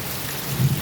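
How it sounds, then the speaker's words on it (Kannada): Heavy rain pours down in a dense, steady roar, loud and close, with a low rumble underneath during a storm with lightning and thunder. "ದೊಡ್ಡ ದೊಡ್ಡ ಮಳೆ ಬರ್ತಾ ಉಂಟು."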